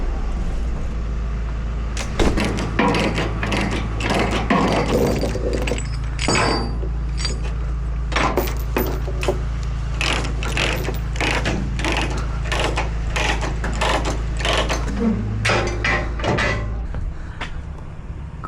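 Repeated metallic ratcheting and clanking as straps are tightened down over a loaded machine on a trailer, in irregular close bursts over a steady low engine-like rumble.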